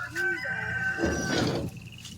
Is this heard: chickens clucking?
yes